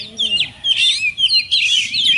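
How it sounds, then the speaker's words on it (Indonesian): An oriental magpie-robin (kacer) in breeding condition sings a continuous run of bright, varied whistles and rapid chirps, loud and close, with no one speaking over it. "Ini satu lagi kacer"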